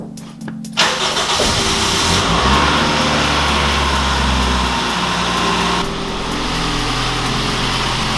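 A vehicle engine cranks and catches on its first startup after an oil cooler install, then settles into a loud, steady idle close by.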